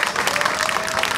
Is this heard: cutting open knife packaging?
no